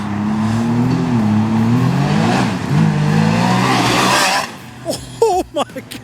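A 2024 Can-Am Maverick R XRS side-by-side engine revs loudly with rising and falling pitch, then cuts off abruptly, followed by short, sharp mechanical squeals and clunks of gear shifting.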